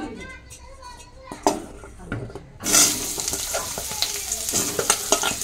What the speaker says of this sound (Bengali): কড়াই দেখুন আলু ভাজার তেল আছে, তাতে আমি পুঁই শাকগুলো ভেজে নেবো